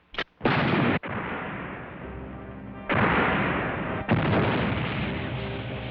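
Cannon artillery fires in a 1989 jidaigeki drama, a sharp crack and then heavy roaring blasts that overlap into a sustained thunderous rumble, loud and close, with another booming report midway.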